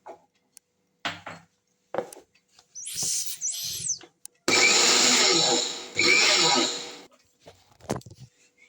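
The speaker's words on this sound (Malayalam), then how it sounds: "ഇനി നമുക്ക് ഈ ഓട്സ് ഒന്ന് ക്രഷ് ചെയ്യാം." A mixer grinder crushes oats with a pinch of salt in two loud, close bursts of whirring motor roar, each lasting about a second and a half, with clicks and lighter handling sounds around them.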